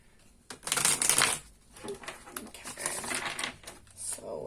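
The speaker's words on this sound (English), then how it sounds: "let's go ahead and start shuffling" Crisp, rapid riffling of a tarot deck being shuffled, loud and close, in several bursts with short pauses between them.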